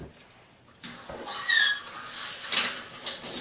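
A shower curtain pushed along its rod gives short high squeaks and scraping rattles of the rings, two or three close bursts against a quiet room.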